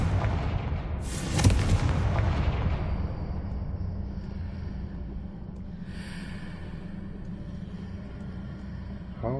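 Confringo explosion spell cast in the video game Hogwarts Legacy: a loud boom with a rumbling tail that fades into a low, steady roar of game ambience.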